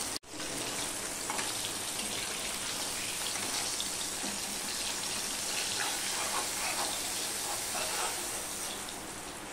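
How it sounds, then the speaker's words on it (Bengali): Parshe fish frying lightly in a pan, a steady close sizzle with dense crackling spatter running unbroken from start to finish, with no voices over it. "হালকা করেই আমি ভেজে নিচ্ছি।"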